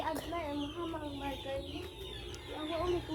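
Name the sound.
chicken clucking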